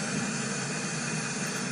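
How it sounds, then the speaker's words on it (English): White noise test signal played through audio equipment, a continuous, even broadband hiss held steady for the whole stretch at moderate level, with no voices. "We're done with the white noise test."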